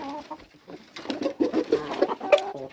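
Several short clucking calls from a rooster calling hens, repeated in quick bursts close by, with softer bird sounds in the gaps.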